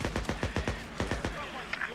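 Gunshots in the video game Days Gone, a rapid burst of about ten evenly spaced shots fired in quick succession at moderate distance, with a brief voice near the end.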